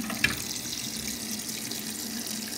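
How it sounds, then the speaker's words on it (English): Tap water running into a sink to wash a silicone pop-it fidget toy, a steady soft hiss of flowing water, close but fairly quiet, with a brief splash near the start and no talking. "Let's start by putting the water in."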